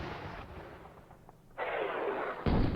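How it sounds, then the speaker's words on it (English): Artillery fire from a field regiment in a Normandy 1944 war strategy game, with booming blasts that roll off into rumble and a second, louder report near the end, and no talking. "We can fire with this field regiment here."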